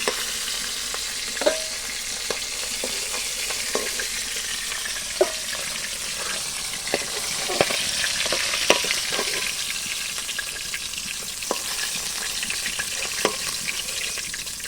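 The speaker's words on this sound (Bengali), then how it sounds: "বাকি মাছগুলো আমি এভাবে ভেজে নেব।" Pangas fish frying in hot oil in a kadai, a steady loud sizzle with scattered crackles and pops and occasional scrapes of a spatula, no voices.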